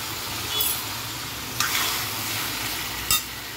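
Tomatoes frying in hot oil for an instant tomato pickle, a steady close sizzle with a few brief stirring scrapes and bursts rising above the hiss.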